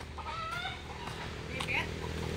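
A chicken clucking on a street near food vendors after a collision, faint and scattered short clucks under a steady background hum and traffic noise.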